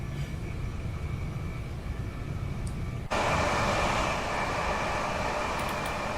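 Class 395 electric train running in Train Sim World 2022, a steady broadband rumble and rail drone that jumps suddenly louder about halfway through and stays loud, with no talk.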